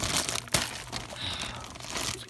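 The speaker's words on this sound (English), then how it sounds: "Let's just rip this open." Plastic packaging around toy figures is torn and crinkled open by hand, a run of close crackling and crunching with one sharp rip partway through, and no voices.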